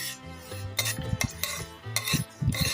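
Sesame seeds are stirred while they roast in a pan, giving close, uneven scraping and rattling strokes in short bursts with no talk.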